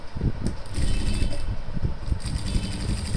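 A sewing machine stitches a men's pocket piece with a close, steady mechanical whir and rattling clicks, running without pause.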